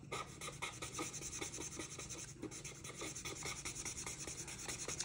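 A marker is scrubbed back and forth over a drawing to darken it, making a quick, rhythmic rubbing and scratching of tip on paper, close and continuous throughout.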